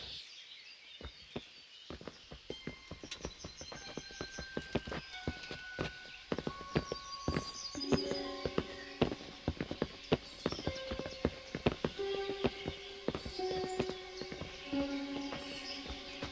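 Horse hooves clip-clop in the medieval video game Kingdom Come: Deliverance, a steady run of sharp hoof strikes that starts sparse and grows busier, backed by sustained musical tones and faint birdsong.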